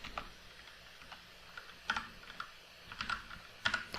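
Keys tapped on a computer keyboard while a chmod command is entered in a Linux terminal, irregular soft clicks over a steady room hiss, close but fairly quiet, no voices.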